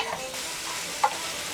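Spice paste for a fish-head moong dal sizzles in a kadai over low to medium flame, a steady fry hiss with a single sharp scrape of stirring partway through.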